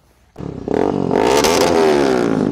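A motorcycle engine on an early-morning group ride of five bikes from Palghar starts up after a brief quiet moment, then roars loud and close, revving and holding a strong rising drone.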